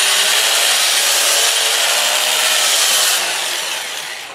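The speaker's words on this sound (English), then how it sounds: "And then I'll turn the lathe on, going forward around 400 RPM" Steady, loud abrasive hiss of sanding wood on a lathe spinning at about 400 RPM, continuous and close, tapering slightly toward the end.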